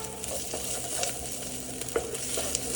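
A thick béchamel pasta mixture is stirred in a pot, with soft scraping and wet sizzling from the bottom of the pan, steady and close with no talk.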